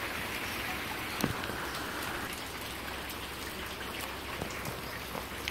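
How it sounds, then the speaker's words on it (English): Light rain falling outdoors during a thunderstorm, a steady soft hiss of drops with occasional sharper patters on nearby surfaces, even and unbroken throughout. "Yeah, it's like just light rain now."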